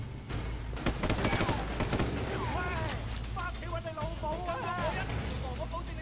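Gunfire in the video game Sleeping Dogs crackles in rapid bursts and shots, with game effects and background noise, while someone talks over the action.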